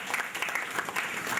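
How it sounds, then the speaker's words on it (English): An audience at a Get Nigeria Reading education event gives a round of applause for a woman praised for her work in education, a steady patter of many hands clapping at moderate volume for about a second and a half. "Can we give her a round of applause?"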